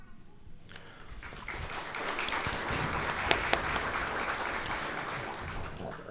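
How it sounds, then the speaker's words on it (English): Audience applause at a Kentucky House district Republican debate, a broad wash of clapping that swells and holds for several seconds, fairly distant in a hall, with no talk over it. "If you guys could hold applause after each answer"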